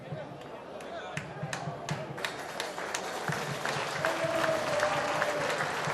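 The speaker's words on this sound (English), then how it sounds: "applause from the Huddersfield supporters as Joe Greenwood gingerly makes his way off the pitch" Huddersfield supporters applauding at a rugby league match against Wigan as injured player Joe Greenwood walks off the pitch, a steady distant crowd clapping under a commentator's voice.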